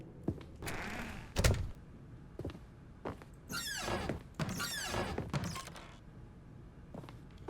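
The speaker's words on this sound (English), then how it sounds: "Close the door." In the video game The Stanley Parable, a door is shut: a series of thuds, clunks and creaky sliding scrapes, a few solid knocks standing apart from a faint background.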